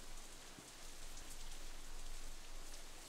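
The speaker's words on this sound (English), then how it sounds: "The rest of my voice is completely drowned out by an even heavier burst of rain." Heavy rain pours steadily in the visual novel Katawa Shoujo, a dense, continuous hiss of drops striking surfaces that holds at an even loudness with no voices.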